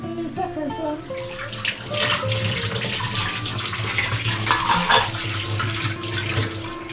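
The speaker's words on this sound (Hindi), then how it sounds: "मम्मी बर्तन धो रही हैं" Dishes are washed under a running tap at a home sink: a steady, fairly loud rush of flowing water with clinks and knocks of utensils, and other household sounds mixed in beneath it.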